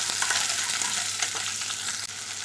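Pointed gourds fry in a hot pan with a continuous, bright sizzle while being stirred, with one soft scrape of the spatula near the end.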